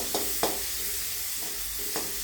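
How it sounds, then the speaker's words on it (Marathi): Curry leaves, chilli and onion sauté in a pan for a savory vermicelli upma, giving a steady soft sizzle with a few sharp stirring scrapes spread through it. "कढीपत्ता मिरची कांदा थोडं परतून घ्यायचं"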